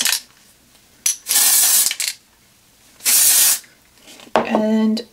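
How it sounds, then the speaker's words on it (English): Several short bursts of dry shampoo aerosol spray hiss close by onto a hair parting, separated by brief pauses, with a click or rattle of the can near the end. "Spray that down the center part."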